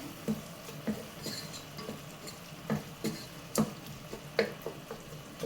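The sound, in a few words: stirring Kannur-style prawn rice mixture with Kashmiri chilli powder in pot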